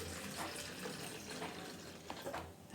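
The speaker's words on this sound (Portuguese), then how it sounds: "Vou colocar água no liquidificador." Water is poured into a blender while making a passion fruit cough syrup, a soft, continuous liquid splashing and trickling at low volume.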